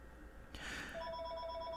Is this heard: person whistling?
no